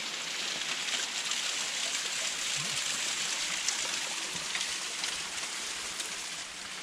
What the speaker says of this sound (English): And look at the water coming down there.